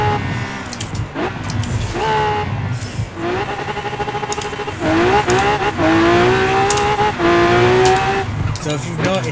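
A Lamborghini Aventador tuned to 1200 BHP in Forza Horizon 4, with traction control off, revs hard through short gears with all four wheels spinning, rising engine notes repeating with tire squeal, close and loud.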